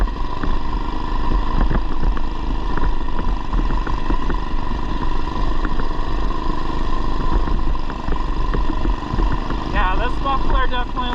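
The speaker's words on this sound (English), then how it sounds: "this muffler definitely likes lower RPM ranges" A mini bike engine runs steadily through its muffler at fairly low revs, a constant loud buzzing drone across the whole stretch with slight rises in pitch, recorded up close while riding on a mountain road.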